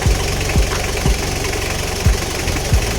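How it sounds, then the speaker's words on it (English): A Mitsubishi Delica L300 engine idles steadily, loud and close, with a low throbbing rhythm and periodic knocking thumps, no talking. "Now let's start the engine."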